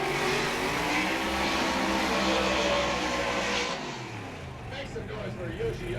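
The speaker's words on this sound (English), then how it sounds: "Forsberg's car is definitely louder than Yoshioka's" Formula Drift race cars in a Top 16 battle, Chris Forsberg's and Toshiki Yoshioka's, roaring loudly with revving engines that fade as the cars pull away, with commentary talk throughout.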